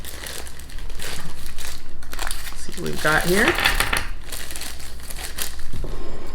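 Plastic snack bag from a Universal Yums India box being pulled and torn open by hand, with steady crinkling and crackling throughout, loud and close, under a person talking.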